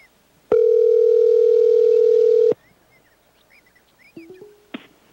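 A telephone tone sounds as a single long, steady beep lasting about two seconds while a call is placed to a grandmother. A few short higher electronic blips follow after a pause.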